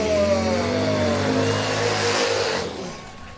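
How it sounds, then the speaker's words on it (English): Harley-Davidson racing motorcycle engines rip past a race booth at a beach flat-track event, a loud revving roar with a falling pitch as they pass close by, then fading away. "those engines ripping by our booth"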